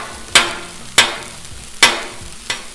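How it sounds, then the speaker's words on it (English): Shrimp fried rice on a Blackstone griddle, being turned with a metal spatula: four sharp scraping clanks at a loose rhythm over a low background sizzle, with no voice. "The griddle is heating up real fast. Let's just keep turning the stuff around."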